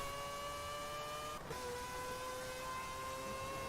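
A sports car engine in the video game Forza Horizon 4 drones steadily at high revs with a thin, buzzing tone, rising slightly in pitch as it keeps accelerating, loud and continuous throughout.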